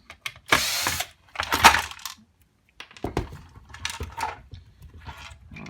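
A screw being worked loose from the element of a Triton T70gsi electric shower during a teardown, heard as close metallic scraping and clicking bursts with gaps between turns and no speech.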